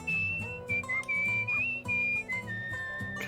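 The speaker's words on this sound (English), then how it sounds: "It's tough to hear the whistling" Someone whistles a wavering tune over background music, the thin melodic whistle riding above a steady musical bed.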